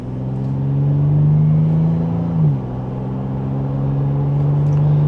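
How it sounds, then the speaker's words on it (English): A fifth-generation Toyota 4Runner accelerates mildly from second gear, its engine droning steadily in a low, loud hum from inside the cabin, with a brief pitch dip partway through as the revs shift. "And just a mild acceleration, we can get up to speed."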